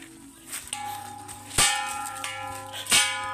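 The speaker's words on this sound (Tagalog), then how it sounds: "Ito yung bell namin dito guys." A village bell in a rural province rings out in a few separate strikes, each ringing on and fading, with faint background noise between.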